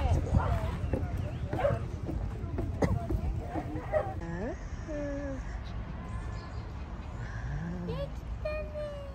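A Pomeranian yaps and whimpers in short bursts at an outdoor dog run in Showa Kinen Park, Tachikawa, Japan, mixed with busy background chatter, a voice and chirping birds.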